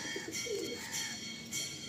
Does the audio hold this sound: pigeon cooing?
yes